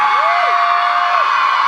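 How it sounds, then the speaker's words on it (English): A concert crowd screams and cheers in a steady, loud, dense roar that fills the whole stretch, with a few whistles cutting through. "only if you guys all stand up and scream"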